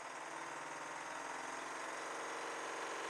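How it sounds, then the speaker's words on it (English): A model Victoria steam boat engine running on compressed air, giving a steady, loud mechanical chuffing hum with fast regular pulsing that holds evenly throughout. "Time to test it by running the steam engine on compressed air."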